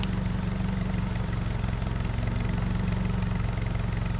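Car engine idling through a newly fitted CSG Touring86 exhaust, a steady low, even burble held throughout at moderate loudness, close by, with no voices.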